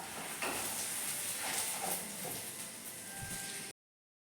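Steady hiss and sizzle of spices being sautéed in a hot frying pan with a pinch of asafoetida, a continuous close crackling broadband noise with faint clinks, cutting off abruptly near the end.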